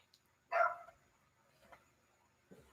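A pet dog lets out one short bark, then a couple of much fainter sounds follow in a quiet room.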